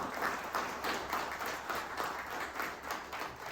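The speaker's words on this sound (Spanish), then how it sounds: "Wendy Reyes, para quien también pido un fuerte aplauso." Audience applause at a book presentation, a steady wash of many hands clapping with rhythmic swells, moderately loud and continuous with no voices over it.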